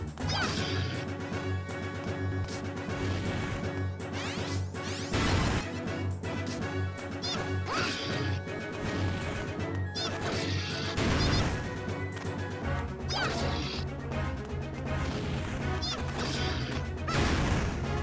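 Heavy crashing impacts from a boss's smashing attacks in the video game Final Fantasy Crystal Chronicles: Ring of Fates, with loud bursts standing out from dense, continuous battle music.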